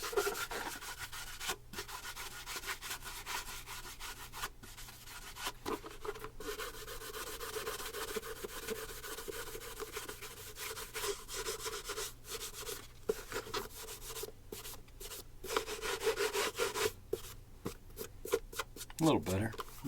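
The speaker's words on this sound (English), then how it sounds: "I like to give them one final buff with Grandma's nylon." Nylon stocking buffing a polished leather dress shoe during a high-gloss shine, giving steady soft rubbing strokes at close range, with a voice talking over it.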